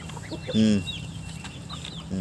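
Pet chickens clucking close by while eating, a short burst of loud clucks followed by softer scattered bird calls, with quiet background noise.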